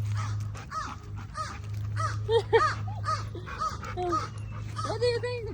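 A crow caws repeatedly at a golden retriever trying to climb trees after squirrels, a series of harsh, fairly close calls over a low steady hum, with no talk over it.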